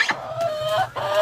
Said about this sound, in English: Oh, there's the chicken.